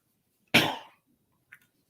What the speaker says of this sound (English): excuse me, I had to cough.